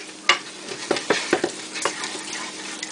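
Butter melting in a pan as the base for homemade gravy for Salisbury steak, giving a soft steady sizzle with a few sharper pops and scraping stirs, close by, with no talk.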